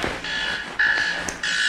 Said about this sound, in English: Is that another alarm? That's another alarm.